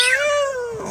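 A man imitates a cat with a single loud, close meow that slides downward in pitch and lasts under a second.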